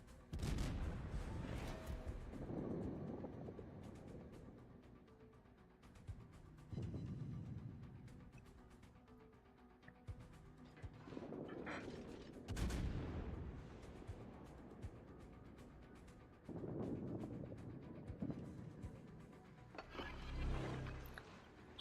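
Heavy naval gunfire in World of Warships, booming salvos that recur every few seconds at close range. A French Henri IV cruiser fires on the Bismarck, and the blasts are layered over steady engine and sea rumble.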